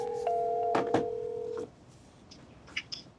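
A phone number is dialed, sounding as a steady two-tone touch-tone beep held for over a second with quick key clicks, then a faint electronic chirp and a few soft blips after the tone cuts out.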